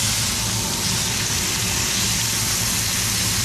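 Venison backstrap from a big buck sears in a hot pan, giving a steady, dense hiss of sizzling fat that holds evenly throughout with no talk over it.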